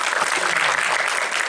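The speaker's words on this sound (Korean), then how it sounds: "여러분 박수 한번 부탁드릴게요" An audience claps in a cinematheque at an anniversary screening of a Korean horror film, a dense, close burst of applause filling the whole short moment.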